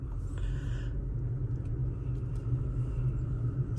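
A Toyota Tacoma truck drives after an engine torque tune, with a steady low rumble heard from inside the cab and no talking.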